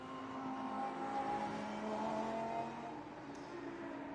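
Lamborghini Super Trofeo race car coming through the final turn at Vallelunga to take the checkered flag, a fairly faint, distant engine note that rises and holds, then eases off near the end.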